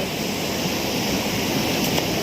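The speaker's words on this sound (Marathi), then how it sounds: "पाणी बघा मित्रांनो कसं येता" Swollen river in monsoon flood, water rushing past in a steady, loud, broadband roar with no pauses, close by and heard alone.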